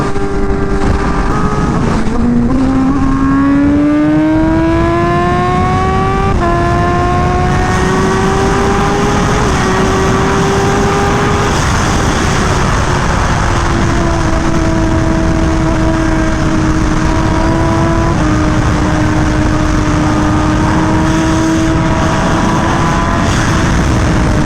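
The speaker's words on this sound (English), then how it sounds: "God, this bike is so loud. I definitely think this is the loudest bike." A Honda Fireblade RRR SP motorcycle engine roars loud and close while riding, its pitch climbing through the revs, dropping at gear changes and settling into a steady, sustained drone.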